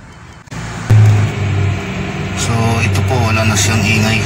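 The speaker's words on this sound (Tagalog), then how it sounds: "matitesting natin kung mawala ba yung ingay ng transmission niya pag nirevolusyon" A Hyundai Accent engine revs from idle, a test for transmission noise after an automatic transmission fluid service. A steady mid-pitched drone sits under someone talking close by.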